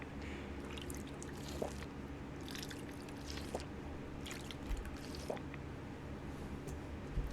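Water being drunk in Fallout 4 survival mode gives a few soft, brief gulping and splashing sounds spread over several seconds, faint above a steady low background hum, with no talking.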